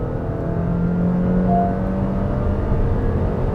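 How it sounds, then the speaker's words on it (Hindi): Honda City petrol engine pulling hard in second gear, a steady, smooth, free-revving drone heard from inside the car, holding at a constant loudness with no talk over it. "मैं सेकेंड गियर में चला रहा हूँ and listen to the engine noise"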